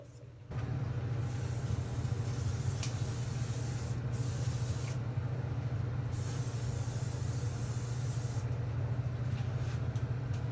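A steady, close hiss of an aerosol hair spray running continuously for about ten seconds after a brief pause, loud and unbroken.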